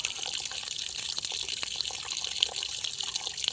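Steady rushing of water flowing through plumbing, a continuous hiss with a faint gurgle, moderately close and without any voices.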